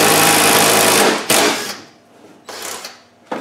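Cordless impact wrench with a 10mm socket driving bolts while fitting the heater and radiator on a Land Rover 110, giving a long loud rattling burst followed by two shorter hammering bursts, close up.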